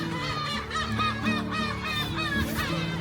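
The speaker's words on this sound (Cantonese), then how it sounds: "其實見到成千上萬隻黑尾鷗係頭頂翱翔盤旋" Thousands of black-tailed gulls circle overhead at Kabushima Shrine, and their harsh, mewing, honk-like calls overlap in a loud, unbroken chorus close by, with a faint laugh-like note mixed in.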